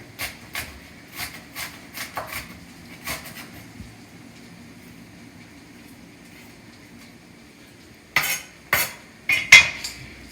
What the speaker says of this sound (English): I cut up a whole onion there